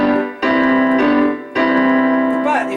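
Piano left hand alternating two-note chords, G with E and then G with D, in a soul groove; sustained, close, clear notes struck about twice per second, with no talking.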